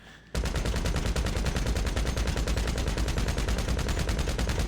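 Rapid automatic gunfire from bullets in GTA Online, a dense unbroken burst of evenly spaced shots that starts abruptly after a brief quiet lead-in and stays loud and close throughout.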